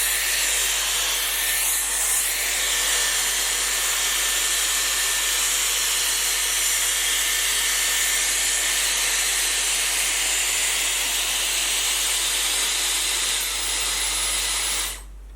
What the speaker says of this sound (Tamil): சோ கொஞ்சம் லிஃப்ட் பண்ணி நீங்க blow dry பண்ணுங்க.